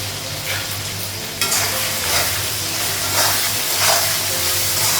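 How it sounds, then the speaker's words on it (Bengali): Spices fry in a pan with ginger paste, onion, turmeric and ground cumin, a loud, close hiss that jumps up sharply partway through, with stirring swishes over the steady sizzle and no voices. "একটু ভেজে নিবো"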